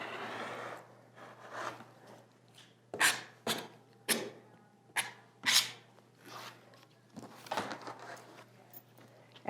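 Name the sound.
trimming fabric edges of a rick rack placemat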